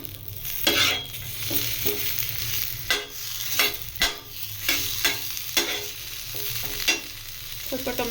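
Tomatoes fry in a small amount of oil in a pan under a continuous sizzle. A spatula scrapes and taps the pan in an uneven rhythm of close, sharp strokes, with no voices.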